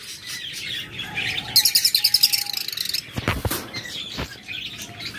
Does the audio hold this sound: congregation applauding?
no